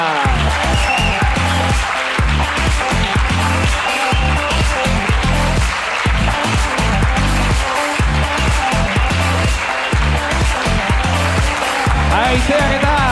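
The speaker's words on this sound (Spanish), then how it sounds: "aplauso para ella" An audience at a live comedy podcast recording applauds loudly and continuously, dense close clapping from many hands that fills the whole stretch, with some voices mixed in underneath.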